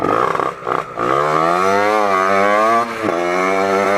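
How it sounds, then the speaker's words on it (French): A motorcycle engine howls up close, its pitch climbing as it revs, easing briefly, then droning on with a brief dip near the end. "ma moto elle hurle alors que j'ai mis de la laine de roche"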